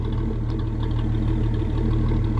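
A Ford Mustang fitted with a new exhaust idles on a cold start, a deep, steady burble with a quick low pulse, close and loud.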